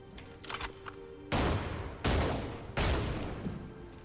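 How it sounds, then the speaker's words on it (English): Three heavy, loud shotgun blasts from the Gunslinger's shotgun barrage skill in the Lost Ark video game, each a long roaring burst fired at a steady rhythm, with quieter game sounds before them. "Shotgun barrage. Supposed to be your shotgun barrage."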